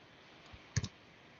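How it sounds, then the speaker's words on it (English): A Control+1 keyboard shortcut pressed during 3D modelling gives a quick pair of soft, close plastic key clicks against a quiet background. "So if I just press Control 1 on the keyboard, I can isolate"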